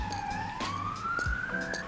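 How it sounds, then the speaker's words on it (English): Rising siren wail of an ambulance, a steady tone sweeping slowly upward, with intermittent low thumps and faint noise beneath. "ambulance."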